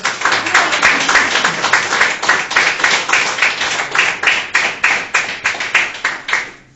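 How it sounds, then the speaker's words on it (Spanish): Church congregation clapping in steady rhythmic unison, a fast run of sharp claps repeating evenly throughout, loud and close with no talk over it. "¿Cuánto le dan un aplauso a Dios?"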